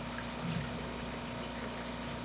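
Water from a 400–500 gallon per hour pond pump outlet spills steadily over gravel in a live blackworm culture setup, a continuous soft trickling and splashing that runs unbroken and fairly faint throughout.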